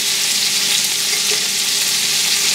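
Chicken for fajitas sizzles in a skillet with a loud, dense, steady frying hiss that stays close and unbroken throughout.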